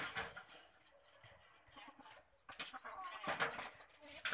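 Bantam chickens cluck and chatter faintly on a rural farm, with irregular bursts of bird calls and rustling scattered across the quiet background.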